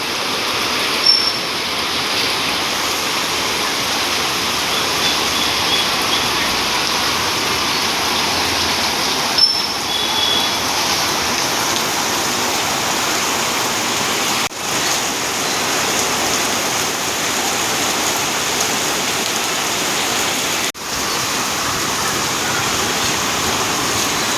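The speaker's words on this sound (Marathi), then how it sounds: "आता एवढा जोराचा पाऊस आला आहे बघा, हवा वगैरे सुटली मस्त" Heavy rain pours steadily with strong wind, a dense, loud, continuous hiss that stays even throughout, with a few faint clicks.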